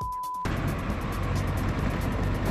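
A car drives at about 30 km/h over a rough, broken road, its engine and road noise a loud continuous rumble that starts suddenly after a brief quieter moment.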